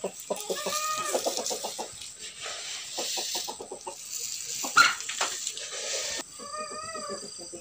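Village chickens let out of their coop, a rapid string of nearby clucks and short cackles repeating throughout, with a brief louder squawk partway through and a burst of clucking at the end.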